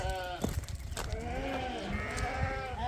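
Several excited ewes bleat repeatedly on a sheep farm, their wavering calls overlapping at close range against steady outdoor background noise, with a few louder cries standing out.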